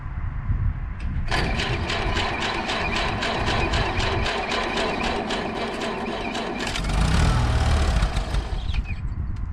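A 1950 Farmall Cub tractor engine trying to start with a choke that won't stay out: rapid rhythmic cranking and firing pulses, loud and close, which stop abruptly, followed by a rougher, louder low rumble.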